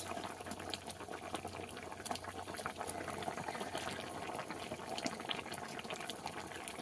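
Fish curry broth boiling in a pot, a continuous soft bubbling and gurgling at low level with no talking.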